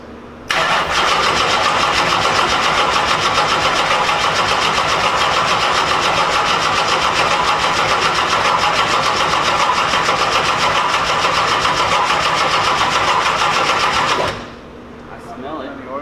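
A no-prep drag car engine in a shop churns loudly and close up for about fourteen seconds, a dense, steady mechanical roar without distinct rev swells, then cuts off abruptly into quiet.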